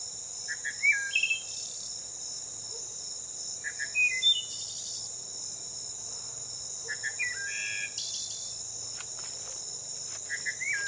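A wood thrush sings short, flute-like phrases about every three seconds, moderately distant, over a steady, loud drone of crickets and insects.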